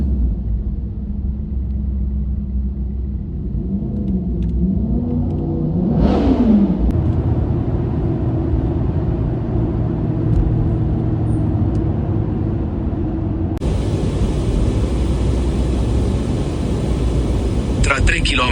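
Cars on an Italian highway creep along slowly in a traffic jam, heard as a low steady rumble from inside a vehicle, with a passing whine and a brief engine rev partway through.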